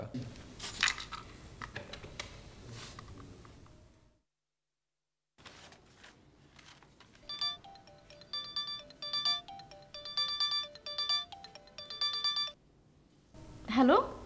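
Talk is followed by a short silence, then a melodic phone ringtone repeats several times at moderate volume.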